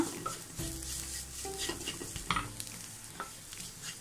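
Onions with garam masala powder sautéing in a pan for a homestyle Kerala egg curry, with steady sizzling and repeated scraping stirs of a spatula, close and moderately loud with no talking.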